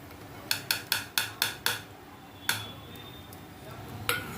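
Metal spoon clinking against a steel bowl while mixing cowpea vada batter with salt, turmeric, asafoetida, ajwain, cumin, red chilli and coarse coriander, six quick rhythmic taps followed by a few scattered clinks, close and fairly quiet.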